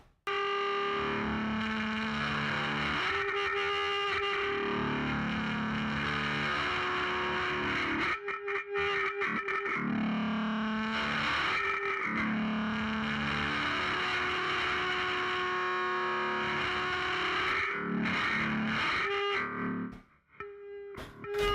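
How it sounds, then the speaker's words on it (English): An ebow held close to a bass guitar's strings produces a long, sustained, distorted drone that wavers and swells with brief dropouts, fading out at the end. "I took an ebow and I actually put it up really close to my bass guitar instead, and was able to get this sound out of it."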